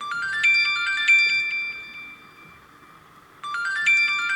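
An HTC Trophy phone ringtone plays a bright, electronic melodic phrase, pauses briefly, then begins again, clear and alone.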